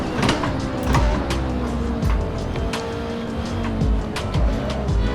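Race car in the Assetto Corsa sim braking hard into a big braking zone, engine note dropping through downshifts with blips, steady and loud with rhythmic gear changes throughout.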